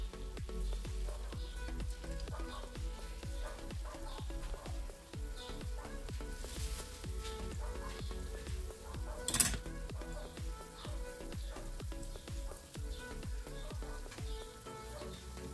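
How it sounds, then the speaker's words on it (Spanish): Corn empanadas (pastelitos) frying in hot sunflower oil, a steady soft sizzle and crackle with a constant bubbling hiss, one sharper pop around the middle, and occasional faint utensil clinks. "Vamos a freír por lo menos unos 5 minutos de un lado y después le vamos a dar vuelta."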